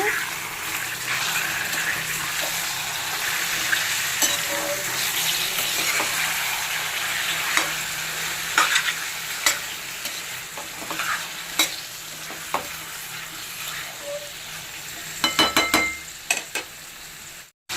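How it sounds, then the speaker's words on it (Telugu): Chicken fries in a pan for a spicy Andhra-style dish, with a constant sizzle under repeated stirring scrapes and clanks that sharpen into a cluster near the end. "ఇప్పుడు చికెన్ అంతా వేసేసుకున్నాను."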